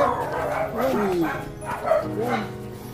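A dog out on a street gives a run of close, loud barks and yips, with whining tones between them, while people talk nearby.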